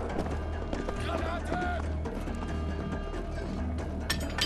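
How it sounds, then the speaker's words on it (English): Footsteps from many enemies echo through Wolfenstein: The Old Blood's castle keep, a steady patter of treads layered into a dense, continuous wash of game noise and rumble. "All I can hear is footsteps."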